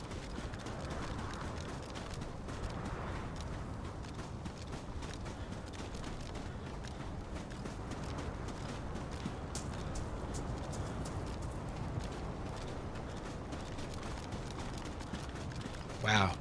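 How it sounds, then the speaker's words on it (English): Footsteps and metal clanking in the DayZ video game: a steady run of soft, rhythmic steps with faint mechanical clanks over constant background noise, quiet throughout. "It's like I heard footsteps and stuff, and clank, clank, clank"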